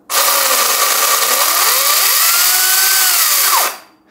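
A Makita 40V rear-handle cordless electric chainsaw (MUC019G) whirs loudly and steadily for a few seconds, its pitch rising and dipping slightly before it winds down and stops.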